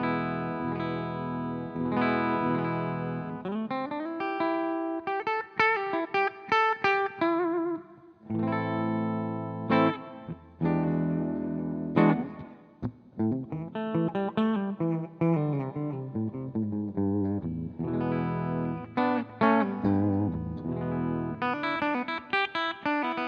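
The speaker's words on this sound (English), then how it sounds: "Now we'll move on to the Epiphone Les Paul" Clean single notes and short phrases from an Epiphone Les Paul electric guitar on the bridge pickup, plucked one after another with a pick, each ringing out and decaying, brief gaps between phrases, no talking.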